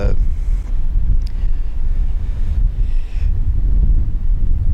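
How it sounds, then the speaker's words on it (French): Strong wind buffets the microphone outdoors, a loud, continuous low rumble with gusty swells and dips throughout, no other clear sounds. "il y a du vent"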